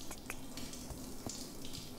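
Shower water running in a bathroom in a Southwest Florida roleplay video game, a steady close hiss of spray with faint splashing and drips, alone without talk.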